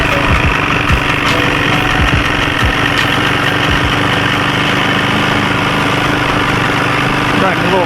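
A rebuilt outboard boat motor runs fast with an uneven lump, a loud, close, continuous rattling drone with irregular knocking thumps throughout.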